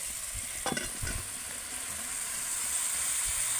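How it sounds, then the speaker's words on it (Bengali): Boiled jackfruit pieces tipped into oil-rich, well-fried masala, with a steady close sizzle and hiss plus a few brief stirring clatters, no voices. "এবার আমি ভাবিয়ে রাখা এঁচড়গুলোকে দিয়ে দেবো মশলার মধ্যে।"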